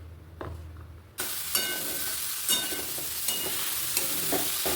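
Banana flower fritters made with rice flour, gram flour, salt and turmeric dropped into plenty of hot oil, setting off a loud, steady sizzle after a quieter start, with occasional pops and crackles.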